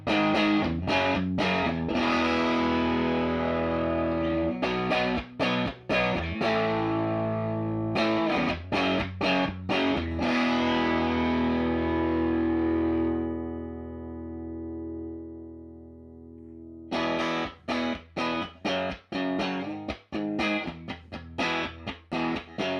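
Electric guitar through a Matchless Lightning tube amplifier at a middling overdrive setting: bursts of strummed chords with rhythmic choppy stabs, a long ringing chord decaying for several seconds, then more choppy strumming, no talking.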